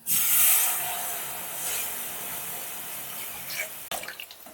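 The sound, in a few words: water poured for boiling moong dal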